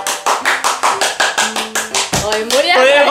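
About a dozen quick, evenly spaced hand claps ring out close by, then a voice starts talking.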